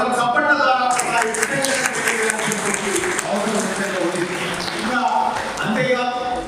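Audience applause for the chief minister at a Birsa Munda 150th birth anniversary celebration, a sustained burst of many hands clapping across the venue with a speaker's voice over it.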